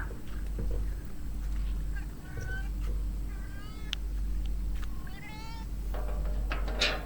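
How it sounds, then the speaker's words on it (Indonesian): A cat meows several times in short, rising calls over a low steady hum, with a few faint background knocks. "Biasanya udah ditungguin kucing hitam"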